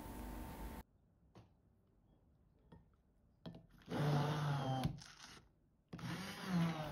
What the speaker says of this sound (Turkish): 3 dakika kadar bu şekilde blenderdan geçirdim.